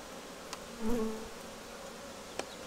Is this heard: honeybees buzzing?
yes